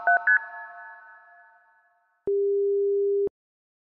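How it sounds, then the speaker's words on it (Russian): Busy-signal tones after a phone call drops: a few fading electronic beeps, then a single long, loud steady tone that cuts off abruptly. "Обрыв связи."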